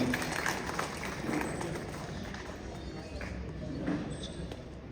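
Scattered applause from an audience at a Razole Constituency S.C. & B.C. welfare association gathering in Hyderabad, a steady, moderate patter of clapping with voices murmuring underneath throughout.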